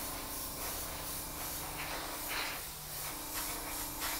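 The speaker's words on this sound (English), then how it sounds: "As you work, you want to continue to maintain movement of the airbrush and not stop in any one place for any length of time." An airbrush sprays paint onto a model aircraft in a single-colour camouflage scheme, giving a steady close hiss with slight surges as the brush keeps moving.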